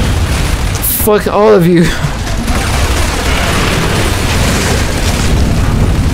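Boom shield explosions in the Gears of War 3 video game: a loud deep boom bursts out early, followed by continuous gunfire-like noise and game din, with players talking and shouting over it.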